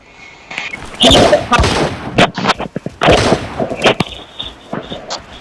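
Gunfire from the Arena Breakout video game cracks out in loud, sharp shots, single and in short bursts with irregular gaps between them, close to the listener.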